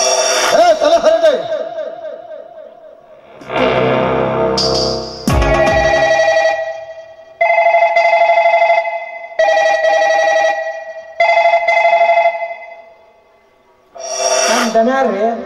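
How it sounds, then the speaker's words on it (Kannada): Telephone ringing during a village stage drama, repeated electronic ring bursts in regular spaced groups, loud and close, with short gaps between them and other noises at the start. "ನಿಮಗೆ ಫೋನ್ ಬಂದಿತ್ರಿ ಅಪ್ಪ."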